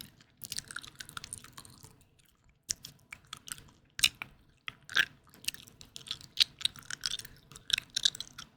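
Close, wet chewing of springy gum, with irregular soft smacks and clicks in an otherwise quiet setting, a few louder bites standing out.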